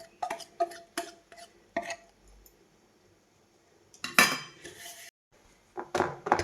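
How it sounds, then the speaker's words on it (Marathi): A cake tin holding ragi cake batter is tapped on a hard surface, giving a handful of sharp metallic knocks in two bursts with quiet gaps between, followed by a louder clattering rattle of the tin near the end. "थोडंसं हे असं टॅप टॅप करून घेतलेले"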